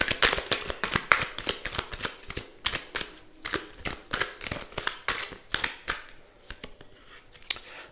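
Tarot cards shuffled and drawn by hand in a long run of crisp, rapid riffling bursts and soft slaps, close and steady with no talking.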